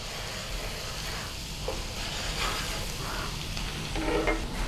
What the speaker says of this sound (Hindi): अब हम डाल देंगे ये चिकन स्टॉक